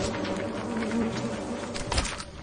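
Bees buzzing around a beehive in the video game Lethal Company, a dense, continuous drone that holds steady and fairly loud with no speech over it.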